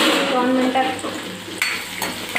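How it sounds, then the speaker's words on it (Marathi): Onion sautés gently in a pan on low heat for a quick puffed-rice breakfast, a soft close sizzle with faint stirring scrapes and a few light clinks of the utensil against the pan. "कांदा थोडंसं मंद आचेवर थोडंसं परतून घ्यायचा कांदा।"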